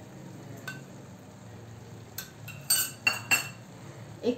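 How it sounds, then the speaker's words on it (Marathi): Desiccated coconut stirred into a paneer and daliya sweet mixture in a pan, with a low soft scraping bed and a few sharp spoon clinks against the pan near the end. "थोडंसं हलवून घेऊया"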